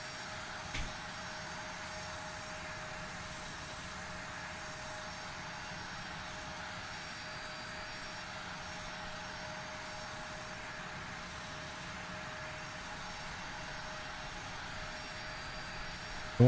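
Steady airplane engine drone in Farming Simulator 20, a constant even hum with a fixed whine running unchanged for the whole stretch, close and moderately loud, with no talk.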